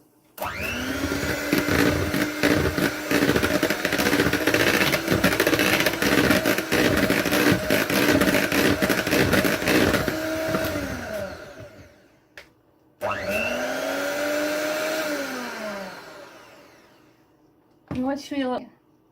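An electric mixer whirs steadily while beating gluten-free red velvet bundt cake batter, running loud and continuous for about ten seconds, stopping, then starting again briefly before a final short burst.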